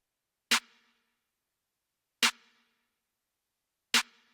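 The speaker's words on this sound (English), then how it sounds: "A typical tight trap snare," A tight trap snare drum sample struck three times alone, each a sharp, bright, snappy crack with a very short tail, evenly spaced with silence between.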